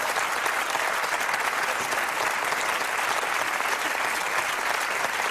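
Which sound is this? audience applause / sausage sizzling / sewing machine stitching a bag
audience applause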